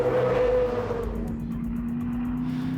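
An Erebus Motorsport Supercars race car brakes hard and locks up, its engine tone dropping as it slides and runs off the track, heard as a loud, steady roar with a sustained whine.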